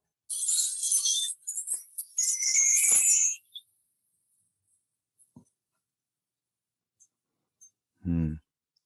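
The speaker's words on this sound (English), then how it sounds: "So this is a tree chime thing. It's all made out of keys, getting smaller and larger." A tree chime made of keys of varying sizes gives bright metallic jingling in a few short bursts, then sparse isolated clinks and a single low thump near the end, with quiet gaps between.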